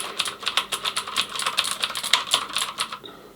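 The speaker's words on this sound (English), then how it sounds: "When you're typing on the keyboard, let's just say one key, the decibel levels are roughly in the low mid 70s." Fast typing on a Marvo Scorpion KG901 compact mechanical gaming keyboard with blue switches, a rapid run of sharp, close clicky keystrokes in an irregular rhythm, heard alone before stopping near the end.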